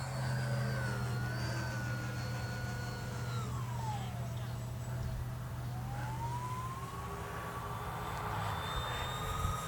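An E-flite EC-1500 Twin 1.5 m RC plane climbs with a steady high electric whine whose pitch sags and then rises again, heard continuously at moderate distance over constant outdoor background noise.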